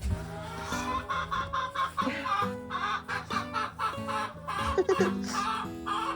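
Backyard hens, including a small brown Ameraucana cross, cluck in soft, irregular bursts, close but fairly quiet, with a faint steady tone in the background.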